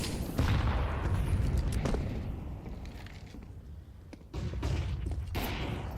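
AK rifles and SMGs fire in a Counter-Strike match, bursts of rapid shots and sharp cracks rattling over a busy background, with a lull before another loud volley.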